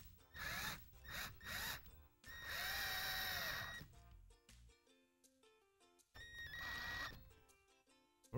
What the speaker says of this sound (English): Second screw goes in.